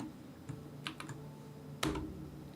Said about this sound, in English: I really need to learn how to use my split keyboard